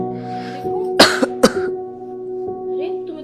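A young man with a sudden headache and fever coughs twice in quick, sharp bursts, then gives a softer cough, close up, over a steady background hum.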